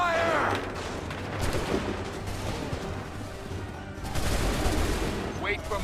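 Musket volleys ring out in the Assassin's Creed 3 video game, booming and crackling in several bursts across the battlefield amid noisy combat, with rolling echoes between the shots.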